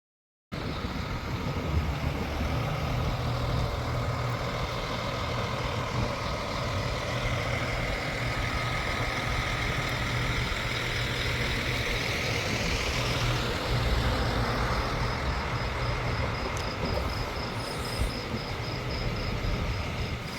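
A newly bought car sits with its engine running, a steady low rumble and broad noise holding evenly and fairly loud for the whole stretch, with no talking.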